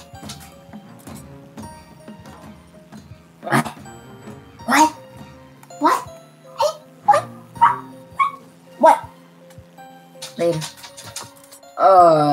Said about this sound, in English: I'm petting my dog and not just letting him sit by me